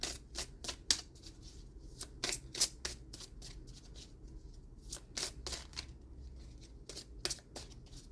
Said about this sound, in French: Pour terminer, on va tirer une carte de l'oracle des couleurs.